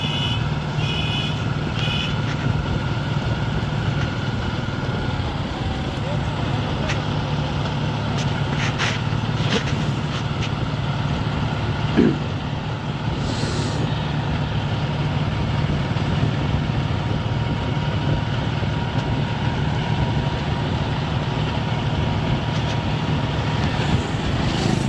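A John Deere 5105 4x4 diesel tractor engine runs at about 1400-1500 rpm with a steady, loud, even drone throughout, broken only by a few faint knocks and brief high beeps.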